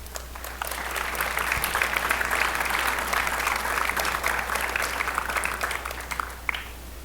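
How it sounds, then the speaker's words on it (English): Audience applause at a high school spring orchestra concert, dense sustained clapping from a large crowd filling the hall, fairly loud and even, tapering slightly near the end. "Give yourselves a round of applause."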